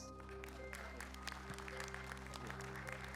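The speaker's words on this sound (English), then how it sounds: "A big round of applause." An audience claps steadily throughout, a dense patter of many hands at a moderate distance, heard at a fairly low level.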